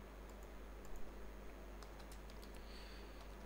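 Soft, quick keyboard typing in short scattered bursts, faint and close against a low steady hum, while writing code in UiPath.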